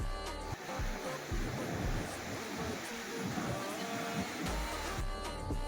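Sea waves wash continuously along a coastline where boats are out on the water, a broad rushing surge with a low steady hum beneath and a few soft thumps, fairly loud and close.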